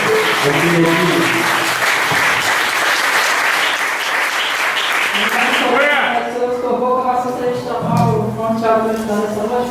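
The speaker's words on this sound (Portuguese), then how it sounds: "Vamos aplaudir o Senhor bem forte nessa noite" Loud church congregation applause fills the room during evening worship, broad steady clapping that gives way midway to people singing and voices over the fading claps.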